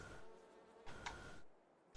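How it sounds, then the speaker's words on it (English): Bees buzzing in the Farming Simulator 22 video game, a faint steady insect hum with a brief brighter swell in the middle, quiet and without talk. "And there's the bees coming out."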